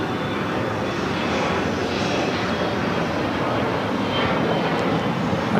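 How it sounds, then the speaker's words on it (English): A Gulfstream G450 jet at LAX makes a loud, steady, continuous engine roar that stays close and unbroken throughout. "This is a Gulfstream G450."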